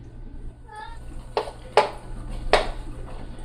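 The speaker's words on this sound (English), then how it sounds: "So I'm mincing mine up this fine." Kitchen knife chops salt fish on a board for Jamaican-style fritters, about three sharp, spaced knocks over a faint hum, with a brief higher clink early on.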